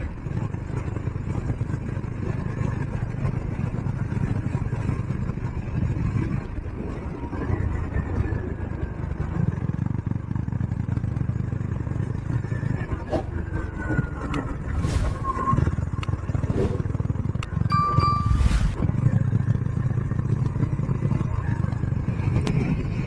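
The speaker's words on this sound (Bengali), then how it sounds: "জাস্ট বাইকের এই আওয়াজ" A Honda H'ness CB350 motorcycle rides along an open, curving rural road toward Belpahari, its engine a steady, continuous drone mixed with wind rush that holds for the whole stretch without talk.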